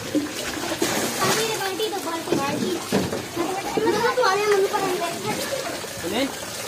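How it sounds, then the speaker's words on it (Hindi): Flood water splashes and sloshes as it is bailed out of a flooded house after heavy rain in Mirpurkhas, with repeated uneven splashes close by under steady talking and children's voices. "देख रहे हैं घर में पानी, कमरों में पानी और ये पानी निकाल रहा है"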